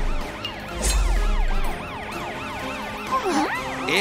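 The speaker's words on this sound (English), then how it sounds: "Let's use your sirens to clear the way." A cartoon police car siren wailing with rapid up-and-down sweeps sounds steadily throughout, fairly loud, with a low rumble partway through.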